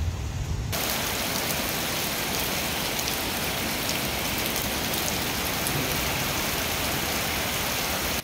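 A heavy rain downpour pounds city streets as a loud, steady roar of rain on surfaces that holds unbroken from start to finish, with no voices.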